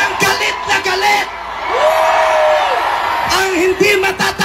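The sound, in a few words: rally crowd shouting in anger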